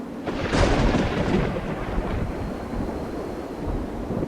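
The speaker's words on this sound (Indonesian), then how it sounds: "Sebuah petir menyambar, membelah langit." A thunder strike cracks and then rolls into a long, heavy rumble, with rain and wind hissing steadily beneath it.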